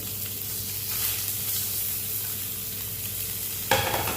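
Fish frying in a hot pan, a steady close sizzle and hiss of oil running throughout, with a brief louder burst of spitting near the end.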